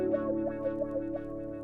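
A sustained, distorted synth melody plays alone, each short note trailing soft repeating echoes that blur into a steady, shimmering wash.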